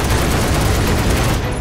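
Rapid gunfire from the video game Final Fantasy 7 Remake, a loud continuous fusillade of shots and bangs filling the whole stretch without a break.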